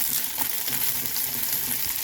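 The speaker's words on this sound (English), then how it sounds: "When you put them in there, you want to hear them sizzle immediately." Vegetables sizzle in hot oil with a constant crackling hiss, close up and steady, with no voices.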